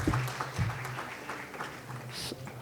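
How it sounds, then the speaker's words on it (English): Audience applause for a college quiz team at a regional quiz round, a steady wash of clapping throughout, fairly close, with a voice speaking over the start. "Give them a round of applause."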